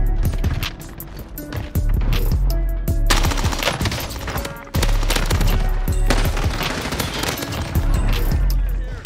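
Rapid automatic fire from a Cold War MP5 submachine gun in Warzone, loud sustained bursts with brief pauses, dense and close, with game effects and talk mixed in.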